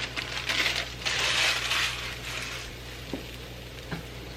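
Chopped onions hit hot oil in a pan as the filling for cheeseburger pods is started, giving a broad crackling sizzle that swells loudly in the first two seconds, then settles to a steadier hiss with a couple of light clicks.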